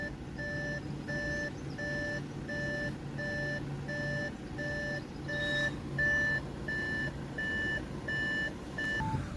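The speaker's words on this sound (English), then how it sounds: "Just got the beeping because the door is open" An Audi A4's door-open warning sounds a steady series of short electronic beeps at an even pace, about two per second, moderately quiet over a low engine idle.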